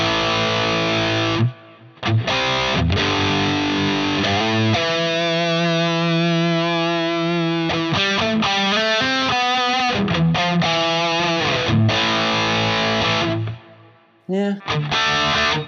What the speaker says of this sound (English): So this is the new Steve Morse ENGL amp.